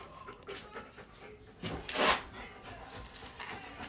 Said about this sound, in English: You guys, you should see this dog.